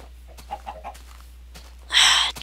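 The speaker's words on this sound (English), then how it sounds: "Chickens." Chickens cluck briefly in the video game Minecraft, a few soft short calls followed by a louder, bright burst of clucking near the end.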